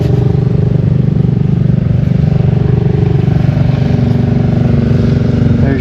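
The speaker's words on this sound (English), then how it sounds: "Looks like it has a cub motor on it with a jack shaft and a pulley. Drives this great big flywheel and a bunch of chains," An old farm machine run by a Cub engine through a jack shaft and pulley, turning a large flywheel and manure spreader chains; a loud, steady engine chug with a fast rhythmic clatter, close and continuous.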